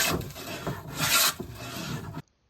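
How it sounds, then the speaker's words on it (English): A hand plane shaves a wooden spar for a carvel-planked boat in a couple of close, rasping strokes before cutting off abruptly into silence. "then cut and planed the spar"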